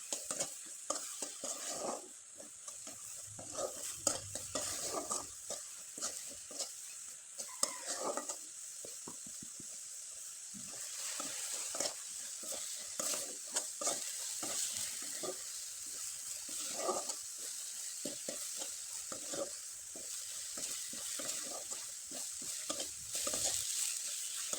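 Coconut filling for dudh puli pitha is stirred in a pan, a spoon scraping and tapping repeatedly over a soft, continuous sizzle, close and moderately quiet with no talk.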